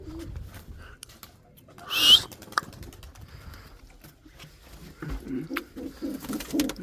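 Pigeons coo softly in a loft while someone tries to catch a new white pigeon, low murmuring coos with a brief flutter and a sharp call, close by amid rustling and faint voices.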